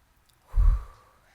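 A conference audience takes one collective deep breath, a soft swell of inhaled and exhaled air that rises and fades within half a second in an otherwise quiet hall, with no talking.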